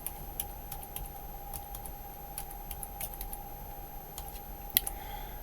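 Keystrokes on a computer keyboard as an admin password is entered, a steady run of light clicks with one sharper tap near the end, over a constant electrical hum.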